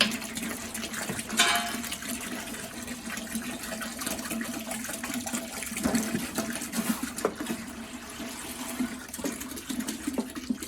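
Liquid is poured into a pot for a double batch of pumpkin pie moonshine, a continuous close splashing and gurgling stream with a few louder gushes and clunks throughout.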